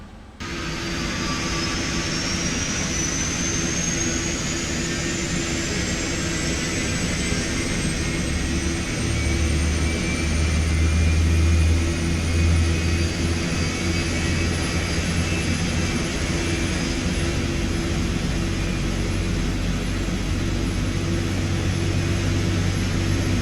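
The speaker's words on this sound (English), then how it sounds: "Let's start up number 1 and then listen to the engine on an external basis" Etihad Boeing 777 freighter jet engine spooling up in a flight-simulator game, a steady loud turbine roar with a rising whine that climbs over about twenty seconds and settles into a continuous drone, with no voices.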